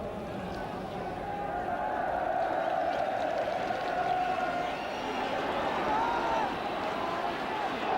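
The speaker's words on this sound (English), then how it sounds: "You can probably hear from the crowd, they're singing Land of My Fathers." Football crowd at a Wales versus England match in 1980 singing Land of My Fathers, a broad, distant wash of massed voices carrying a sustained melody under steady match commentary.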